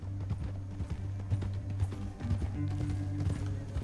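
Hooves of a horse in Red Dead Redemption 2 clip-clop in a quick, steady galloping rhythm throughout, fairly close and continuous.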